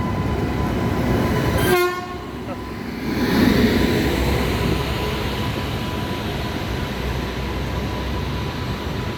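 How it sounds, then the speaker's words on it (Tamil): An express passenger train arriving at a station sounds its horn in a short, loud blast, then rolls in with a steady, close rumble and rail noise that continues to the end. "இதுதான் அந்த ரயில்."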